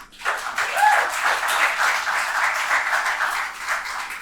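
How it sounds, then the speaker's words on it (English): Audience applause for a panelist at a panel on Black funding, a lively burst of many hands clapping that swells quickly and holds steady for several seconds at moderate loudness. "Please give her a round of applause"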